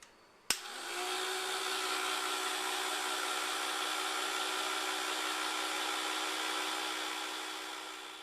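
A food dehydrator drying tomatoes switches on with a sharp click and then runs as a steady, fairly noisy fan whir with a constant hum, unchanging until it fades slightly at the end, with no talking.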